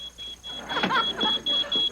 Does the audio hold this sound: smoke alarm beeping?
yes